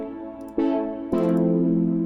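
Synthwave chords from the synthwave section of the Flex instrument in music software: two sustained, warm synth chords, the second struck about half a second after the first, close and clear with no talk.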